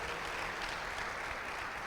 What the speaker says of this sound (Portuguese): dê um aplauso aí ao Senhor Jesus